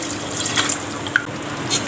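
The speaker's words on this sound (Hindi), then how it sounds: "अब मैं डाल दूँगी इसमें 1 कप पानी।" Water poured into a pot of beef qorma with yoghurt and spices, a soft continuous splashing trickle with faint drip-like clicks, close and moderately quiet, with no voices.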